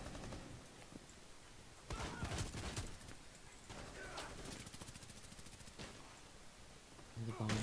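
Rapid gunfire in the Rainbow Six Siege video game, played on a house map in Terrorist Hunt mode, comes as scattered bursts of sharp shots, fairly faint in a busy game mix with a shout near the end.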